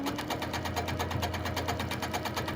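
A sewing machine quilting an echo flower pattern, its needle hammering in a fast steady rhythm with a low motor hum underneath, close and continuous with no talk.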